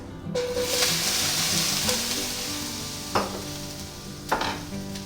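Tomatoes sizzle steadily as they hit a hot frying pan where zucchini was just cooked for pasta, a continuous close frying hiss broken by a few sharp scraping stirs.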